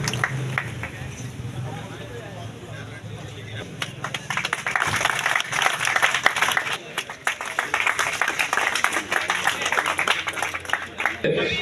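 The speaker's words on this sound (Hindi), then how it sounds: "जोरदार तालियां।" Clapping crowd at a BJP political welcome in a village, the applause swelling after a few seconds and continuing steadily over a background of crowd chatter and an amplified voice.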